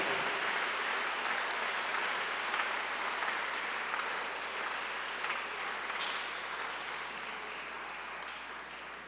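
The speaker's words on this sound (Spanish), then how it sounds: "aplauden si quieren, pero háganlo con ganas." A church congregation applauds during worship, a steady wash of clapping from many hands that fills the room and fades slightly toward the end.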